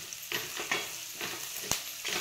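Spices such as coriander powder and turmeric sautéed in a hot pan for vada pav, a steady soft sizzle broken by several sharp scraping stirs, close and alone.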